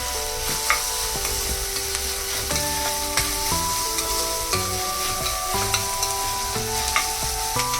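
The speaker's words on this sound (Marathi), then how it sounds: "कांदा चांगला परतून घ्यायचा आहे" Finely chopped onion sautéing in a pan for pav bhaji, a constant bright sizzle with scraping stirs and occasional utensil taps against the pan, close and steady throughout.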